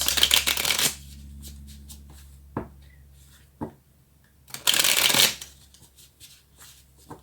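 Tarot cards being shuffled by hand, two loud riffling bursts at the start and near the end with a couple of sharp card taps between, close and clear, no talking.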